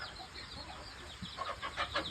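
Chickens clucking in a backyard coop, soft and somewhat distant at first, then a few brief, closer clucks near the end over a low background hum.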